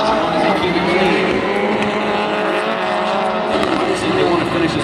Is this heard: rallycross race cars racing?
yes